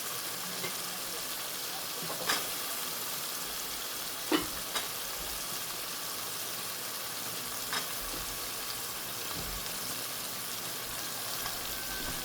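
Guar beans and sorafali frying in a pan give a steady, dense sizzle, with a few faint clinks of stirring rising above the constant hiss.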